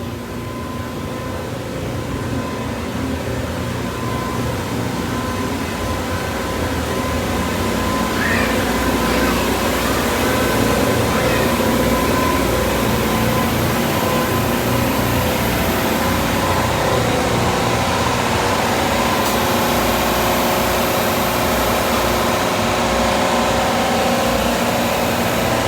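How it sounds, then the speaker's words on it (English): The steam engine of the Liberty Belle riverboat drones as a steady, dense mechanical hum with low rumble and hiss, constant and fairly loud throughout, with no clear individual beats. "Steam engine."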